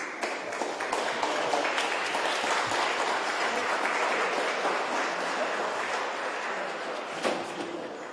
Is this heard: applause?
yes